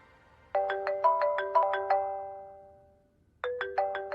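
A phone ringtone plays as a call goes out, a bright melodic chime pattern of repeated notes, a pause of about a second, then the tune starting again, clear and close.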